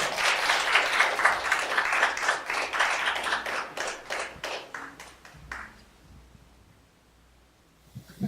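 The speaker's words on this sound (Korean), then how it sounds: "박수로 환영하겠습니다." A church congregation at a Korean Sunday service claps to welcome a visiting pastor, dense applause filling the room for about five seconds, then thinning out and fading to near silence.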